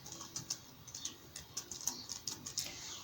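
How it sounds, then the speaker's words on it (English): A name being typed on a computer keyboard during a Word practical exam: quick, light, uneven key clicks in a rapid run, close and fairly quiet. "let me just type my name"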